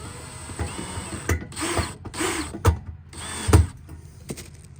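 Screws are started by hand into the holes of a metal shed panel, giving close, irregular ratcheting clicks and scraping bursts with sharp metallic taps between brief pauses.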